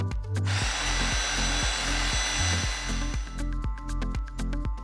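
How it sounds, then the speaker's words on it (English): A Gtech cordless hedge trimmer starts up and runs, its electric motor whirring steadily with rhythmic blade chatter pulsing throughout, close and loud with no voices. "To start the hedge trimmer, press the safety button from either side and then pull the trigger."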